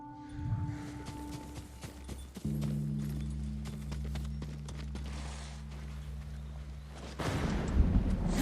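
Horse hooves clip-clop steadily in the video game Ghost of Tsushima, a rhythmic plodding over a low, droning in-game hum, with a brief louder rumble near the end.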